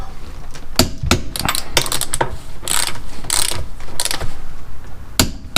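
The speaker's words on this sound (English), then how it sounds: "Torquing these to 76 foot-pounds." A torque wrench tightening lug nuts to 76 foot-pounds on a 2015 Toyota RAV4 LE, giving loud, close bursts of quick ratcheting clicks in uneven clusters with short pauses between.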